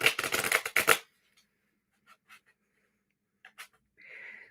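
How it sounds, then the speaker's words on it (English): Tarot cards being shuffled by hand: a dense, rapid riffle of papery flutters for about a second, then quiet with a few soft scattered card slides and taps, ending in a brief smooth sliding rustle. "I'm going to go ahead and start shuffling the cards now"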